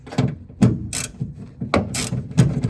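Socket ratchet clicking in short bursts while 8mm nuts holding the trunk trim come off a 2015-2021 Subaru WRX, close and fairly loud, several separate rounds of rapid pawl ticks with brief pauses between them.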